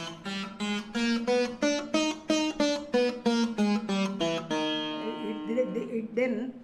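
Veena playing an ascending and descending raga scale, number 29 in the scale system: a steady run of plucked, ringing notes, each evenly spaced, ending on a longer sustained tone, close and alone.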